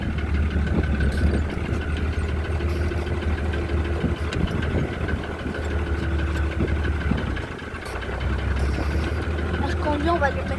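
A tractor engine runs steadily at close range while the machine is driven and backed up to pull a hose reel, a constant mid-low drone with someone talking over it throughout.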